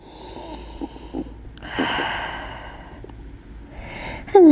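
A person takes a slow, deep inhale during a Pilates stretch on a mat. The airy breath is close and soft and swells in the middle, with light rustling and a brief clatter at the end.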